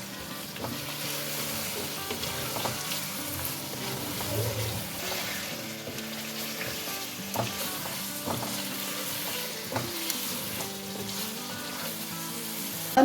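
Masala frying and being stirred with mashed tomatoes in a karahi for chicken masala karahi, a steady close sizzle with scraping spoon strokes and occasional clinks running throughout.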